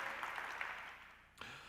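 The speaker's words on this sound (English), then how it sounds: "But we can clap. We can clap for him." An audience at a university faculty convocation applauding, with steady clapping from many hands in a large room that fades near the end before a brief thump.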